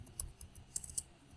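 Code being typed on a computer keyboard gives a few sparse, crisp key clicks, close and fairly quiet, with no talk.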